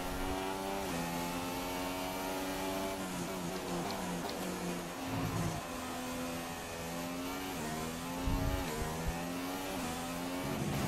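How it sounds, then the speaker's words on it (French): Honda Formula 1 engine in the F1 2016 racing game at the Hungarian Grand Prix, a loud, continuous high-pitched wail with rising and falling revs through gear changes and braking, other cars' engines blending in, no talking. "mais quel moteur Honda!"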